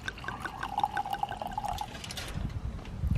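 Light wine pours into a glass with a rising liquid gurgle, followed by a few soft drips and clinks as the pour ends, close and fairly quiet.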